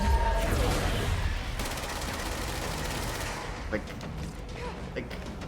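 Rapid bursts of gunfire from the video game Control as a player shoots invisible enemies, a dense, steady clatter of shots filling the whole stretch with brief louder cracks toward the end.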